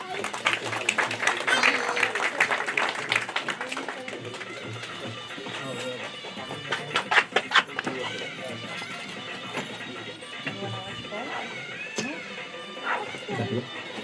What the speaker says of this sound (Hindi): तालियों से अभिनंदन धन्यवाद करते हैं।